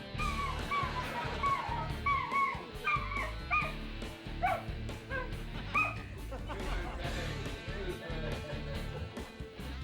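A dog barks and whimpers repeatedly in short, high yips and whines, close and fairly loud over a busy background of music.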